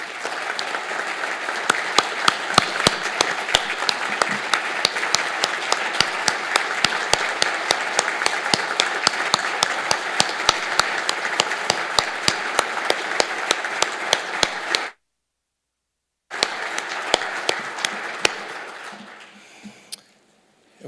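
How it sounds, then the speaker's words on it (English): Audience applause at a live event introducing a business school: dense, rhythmic clapping with sharp individual claps, a brief complete cut of silence, then the clapping resumes and fades out. "could they stand and receive applause?"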